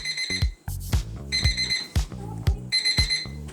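A Ruggy alarm clock, a bath-mat-sized rug alarm, rings in a loud, repeating pattern of bright beeping tones, with short pauses between bursts.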